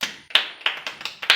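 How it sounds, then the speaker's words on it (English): Children clap for themselves in a German language lesson in Ghana, about six distinct claps in a quick irregular rhythm, close and fairly loud, with no talk over them. "Clap for yourselves."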